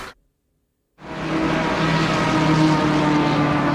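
A GT3 race car engine in Assetto Corsa Competizione at Kyalami drones loudly and steadily after a short silence, holding a sustained high-revving tone throughout.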